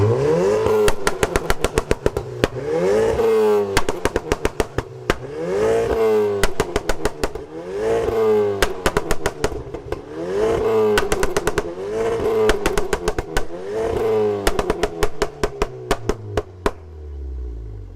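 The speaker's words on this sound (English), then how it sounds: "I'm just going to rev it up." Stage 2 remapped VW Golf GTI with pops and bangs, revved outdoors in repeated surging blips, each rise followed by a crackling burst of pops from the exhaust, loud and close with no talking.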